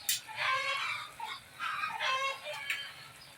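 A few chickens cluck in short, breathy bursts, moderately close, with brief pauses between calls.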